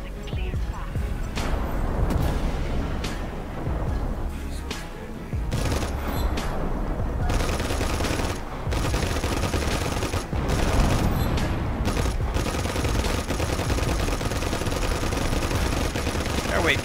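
Gunfire during a night assault on a base in the open-world game Just Cause 3: rapid machine-gun bursts and single shots crackle repeatedly, loud and close, with a voice talking over them.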